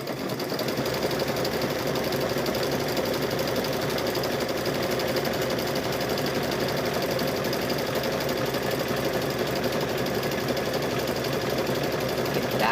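A sewing machine stitching a rope bowl runs steadily and loud throughout, a continuous dense mechanical whir with fast rhythmic rattle and no pauses.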